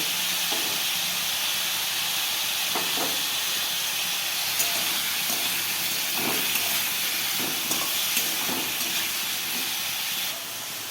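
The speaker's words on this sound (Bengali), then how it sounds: "আর একটু তেল দিয়ে দিচ্ছি, আলু আর গাজরটা ভেজে নেব।" Potatoes and carrots fry in oil with a steady, loud broadband sizzle and hiss that runs throughout, broken by a few faint clicks and pops, with no talking.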